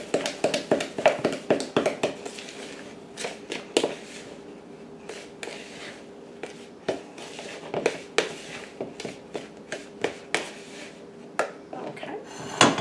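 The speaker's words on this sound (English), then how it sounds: "Just stir this up. We're going to make a nice crumbly topping." Butter being stirred into a crumbly keto cobbler topping gives repeated soft taps and scrapes of a utensil against a bowl, steady and close throughout.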